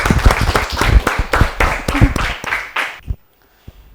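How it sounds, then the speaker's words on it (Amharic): Audience clapping loudly in a studio at a children's television quiz show after a student answers correctly, a dense burst of applause for about three seconds that stops abruptly. "መ አጨብጭቡላት፣ በደንብ አጨብጭቡላት።"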